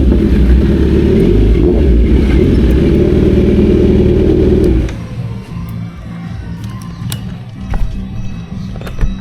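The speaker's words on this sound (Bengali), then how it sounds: "আমার এখন বাইকে লাগানো আছে অ্যারোর ফুল সিস্টেম এক্সস্ট" A Kawasaki Z900 fitted with an Arrow full-system exhaust gives a loud, sustained engine roar for about five seconds, then drops off to quieter background sound.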